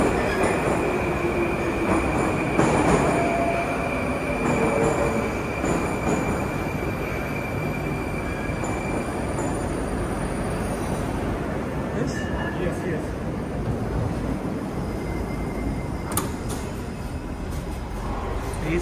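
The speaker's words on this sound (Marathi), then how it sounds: "आली याची मेट्रो." A metro train pulls into an underground station in Russia with a loud, sustained rumble, squealing wheels and rattling carriages, while voices murmur faintly under the din.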